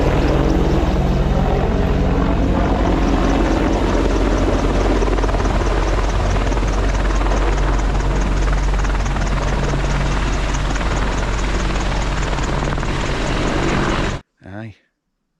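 An army helicopter passes overhead at night in the Lake District, its loud, steady rotor chop filling the air for about fourteen seconds before cutting off abruptly.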